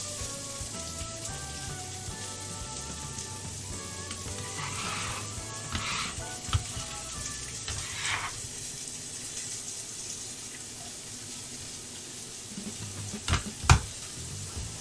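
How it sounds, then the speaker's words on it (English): Onions dumped into a hot, smoking pot for beef stew hiss in a steady sizzle, with a few clanks of a utensil and a sharp knock near the end. "Come immediately over here for the onions and dump those on top."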